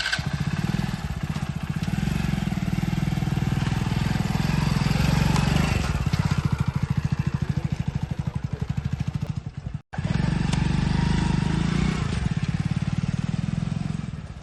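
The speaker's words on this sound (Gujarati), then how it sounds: "લેડો આ બાઈક લઈને આપણે જઈએ." A motorcycle engine runs steadily for the whole stretch, with a loud low rumble and a pulsing putter, and a brief cut near the end before it continues.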